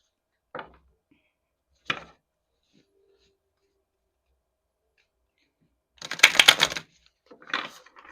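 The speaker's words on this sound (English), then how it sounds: "I'm actually going to shuffle one more time" Brief crisp riffling bursts of a deck of oracle cards being shuffled, a few short flicks spread out, then a longer buzzing riffle near the end, close and fairly quiet.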